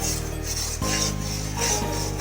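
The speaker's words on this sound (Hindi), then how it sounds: "चमचा लगातार चलाते हैं।" A spoon scraping and stirring gram flour (besan) as it roasts in a pan for besan barfi, a steady rasping rub under a continuous low frying hiss, close and fairly loud.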